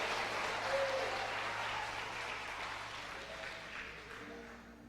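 Steady, dense applause from a church congregation during a pastors' gathering fills the room, loud and sustained, with a faint hum of voices beneath.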